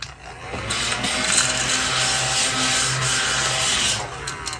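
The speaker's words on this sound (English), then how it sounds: "for the smaller pieces, I'm going to use my little table vacuum." A small handheld table vacuum runs steadily at close range, a continuous whirring hiss with a low motor hum, sucking up small paper scraps at a crafting table during card making.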